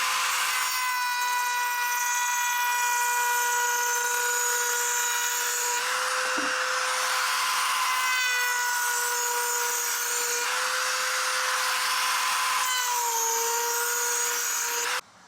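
A power carver bit cutting into a wooden dresser along a straight edge, a loud, continuous high-pitched whine with slight pitch shifts as it bites, close up and uninterrupted, with no speech.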